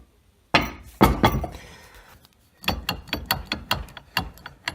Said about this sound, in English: Alright, so we unbolt it now.